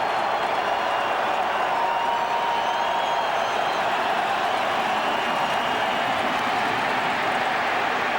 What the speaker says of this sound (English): The crowd trying to help the Dallas defense.